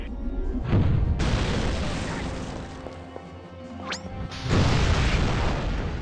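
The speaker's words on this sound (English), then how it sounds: "Bring in the artillery!" Heavy artillery blasts and crashing impacts from Destroy All Humans! 2, loud booming bursts at the start and near the end with a rumbling lull between.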